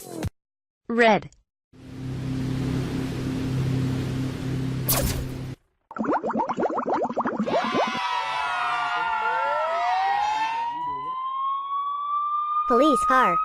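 Cartoon police car siren sounding in bursts: short chirps, a low engine drone, then rapid warbling wails and a long rising tone, with brief speech-like cartoon sounds mixed in.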